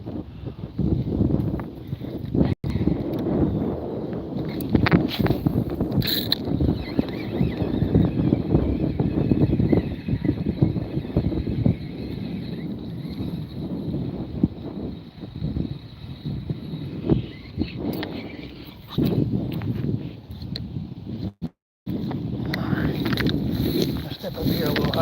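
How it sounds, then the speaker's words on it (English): Wind gusting by the Penobscot River while fishing, rumbling heavily across the microphone as a loud, continuous buffeting that dips briefly near the end, with someone talking over it. "Wind is definitely picking up a little, that's for sure."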